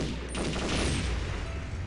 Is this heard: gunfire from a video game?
yes